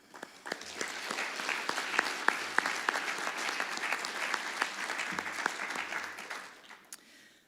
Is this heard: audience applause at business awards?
yes